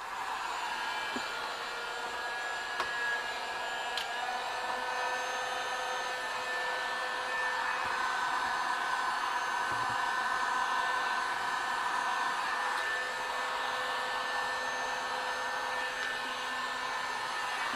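A heat gun warms a custom Acura Integra LED tail light housing, blowing with a steady, even airy whine that holds close and unbroken for the whole stretch.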